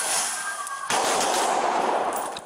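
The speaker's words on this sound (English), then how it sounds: "Amid the gunshots, you can hear shattering glass." Rapid bursts of gunfire crackle continuously, loud and dense, with sharp overlapping reports filling the whole stretch, amid shattering glass, during a mass shooting in Louisville as police are fired upon.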